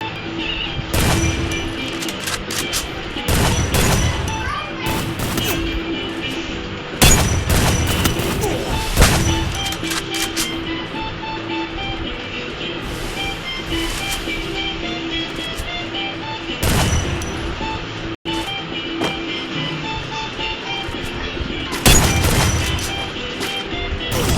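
Repeated shotgun blasts from a SPAS in a video game shooter match, loud sharp bursts spaced a few seconds apart over continuous game background noise.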